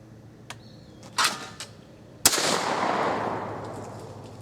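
Remington Sportsman 58 shotgun with a full choke fires a single loud blast outdoors, its report rolling away in a long decaying echo, preceded by a few faint clicks and handling sounds.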